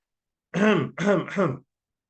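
A person clears their throat three times in quick succession. The three short, close, voiced rasps are about equally loud, with only a tiny pause between the second and third.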